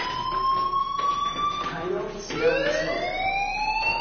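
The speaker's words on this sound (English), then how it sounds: "do you hear that fire alarm?" A school fire alarm sounds continuously in the video game Life Is Strange, a steady high electronic tone that wavers and shifts pitch, with speech layered over it.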